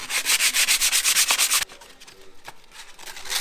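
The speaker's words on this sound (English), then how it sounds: "Some 150 grit wood sandpaper, mate." Rapid back-and-forth strokes of 150 grit wood sandpaper across a painted part on an R32, rough and loud in an even rhythm, then slower scattered rubs after a pause.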